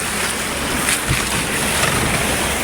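An outrigger bangka motors out to sea, heard as a loud, continuous rush of wind buffeting the microphone over churning water, with the engine hard to pick out.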